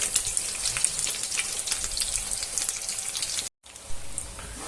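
A garlic omelette fries in plenty of oil, giving a close, steady crackling sizzle with scattered pops, cut off by a brief moment of silence near the end before the sizzle returns; no voices.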